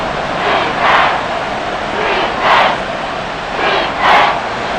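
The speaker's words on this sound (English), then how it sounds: "the crowd getting into it as we come up on a big 3rd down" A stadium crowd in an American football game on Madden NFL 24 swells in three rolling waves of cheering, the roar rising and falling steadily over a constant background murmur.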